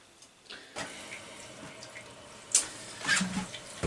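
A toilet with a slightly leaking flush pipe after flushing, with water rushing and trickling as the cistern refills, plus a few knocks and clatters, no talk.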